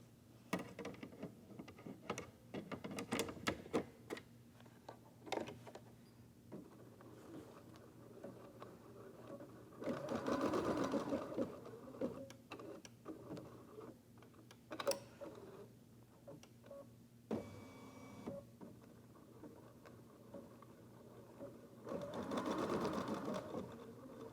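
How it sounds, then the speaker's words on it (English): Embroidery machine sewing tiny placement-line stitches for an in-the-hoop eyeglass case, a steady low mechanical whirr with scattered clicks and ticks, a couple of louder stitching bursts, moderately quiet and without talk. "We're going to take it back to the machine one more time and create placement lines for the next piece of fabric."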